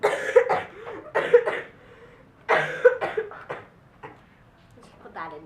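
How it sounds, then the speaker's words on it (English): Someone coughs in several loud, close bursts that come in two rough clusters with short pauses between, indoors during a senior interview. "It's me coughing."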